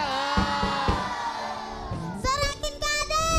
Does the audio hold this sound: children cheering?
yes